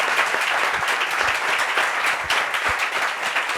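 A studio audience at a French-language talk show applauds with dense, steady clapping that stays loud and even through the short stretch.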